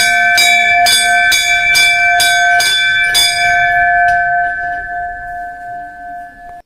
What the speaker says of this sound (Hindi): यहाँ पे घंटी बजाने के लिए मम्मी बोली कि तुम दोनों भी घंटी बजा लो